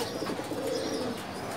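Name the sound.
pigeon cooing in a loft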